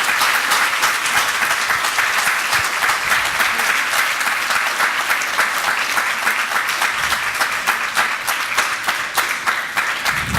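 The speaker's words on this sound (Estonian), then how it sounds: "Ma arvan, et noored on aplausi ära teeninud." An audience at a church-hosted discussion circle gives loud, sustained applause for the young speakers. Thick, even clapping runs for about ten seconds without a break before it thins slightly at the end.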